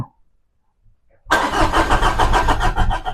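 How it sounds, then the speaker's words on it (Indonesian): A Peugeot 307 diesel car engine cranks and catches after a near-silent pause, then settles into a loud, steady, rough diesel idle close by. "Kita hidupin mobil."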